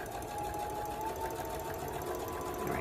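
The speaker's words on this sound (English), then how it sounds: "You wanna make sure that your fabric isn't like hanging off of your machine, because it will pull on the machine and it will affect your stitches." Sewing machine stitching fabric for a coat, a steady fast mechanical whir with rapid needle ticking, continuous and fairly quiet, with no talk.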